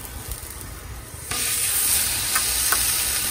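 Salmon laid onto a Blackstone griddle at about 380 degrees with avocado oil, bursting into a sudden loud hiss partway through that stays steady and close, with a couple of brief crackles; no one speaks.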